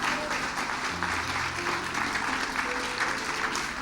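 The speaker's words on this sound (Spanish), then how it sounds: "Puede darle un aplauso al Señor con todo su corazón" A church congregation claps together during a sermon, a fairly faint but continuous wash of applause with a low musical hum beneath it.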